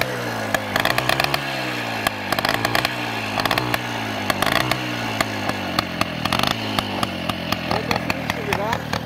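A small old Voskhod motorcycle engine, being kick-started, sputters and chugs unevenly with rapid popping firing pulses, loud and close, while someone talks over it.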